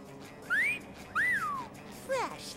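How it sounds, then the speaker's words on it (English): A person attempts a wolf whistle three times: sliding, rising-then-falling whistled notes, close and fairly clear, with a faint background hum between them. "I can't wolf whistle."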